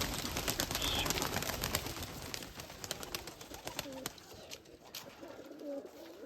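Domestic pigeons coo repeatedly in soft, low rolling calls close by, over a rustling, busy background, with a voice briefly speaking nearby.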